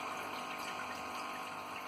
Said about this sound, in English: do the water change